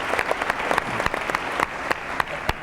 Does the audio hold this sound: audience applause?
yes